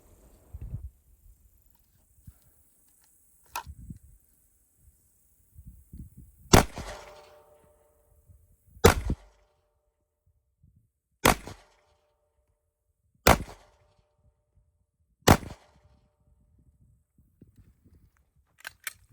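Glock G45 pistol firing on an outdoor range: about six sharp, loud single shots spaced a few seconds apart, with faint handling and footstep noises between them.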